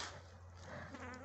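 A bee swarm buzzes in a flowering orange grove, giving a brief, faint, continuous drone of many insects.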